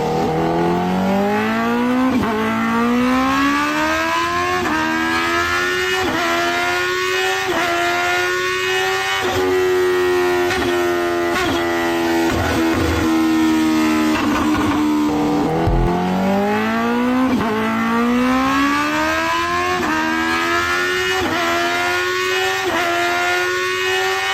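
A vehicle engine revs hard and speeds around the Daya area, its pitch climbing repeatedly through gear changes and sounding sped up, loud and continuous from start to finish.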